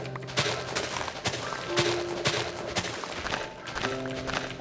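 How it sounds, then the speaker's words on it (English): Minecraft block digging sounds as ground is dug out so rails pop out, a rapid series of crunchy, percussive thuds and clicks in quick irregular rhythm, with short item pop tones mixed in. "if you dig out the ground under the rails, they pop out"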